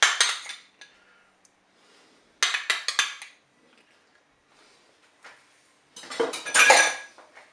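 A spoon scraping and clinking against a Cookeo multicooker pot while stirring a veal dish, three separate bursts of metallic stirring with quiet gaps between them, close and clear.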